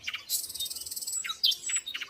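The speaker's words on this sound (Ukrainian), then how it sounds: "починає соловейко виспівувати гімн весні" A nightingale sings in spring, a close, clear run of bright rapid chirps and trilled phrases broken by short pauses, heard alone without any voices.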